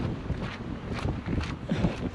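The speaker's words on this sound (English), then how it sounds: "it's a little chilly and it's windy" Gusty wind by the water, with big waves, buffets the microphone with low rumbling and uneven bursts, steady and fairly loud with no voices.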